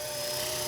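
An RC UH-60 Black Hawk 500-class helicopter, fitted with drop tanks and rocket pods, flies with a steady, even whine and rotor drone, fairly faint and continuous throughout.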